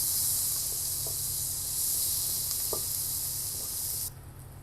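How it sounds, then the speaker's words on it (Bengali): Chopped onions and a small bay leaf fry in hot oil, giving a steady, close sizzling hiss that runs evenly throughout and then drops off abruptly near the end, with a few faint clicks. "তেলটা গরম হয়ে গেছে। আর এখানে আমি 2টা পেঁয়াজ কুচি দিয়ে দিব।"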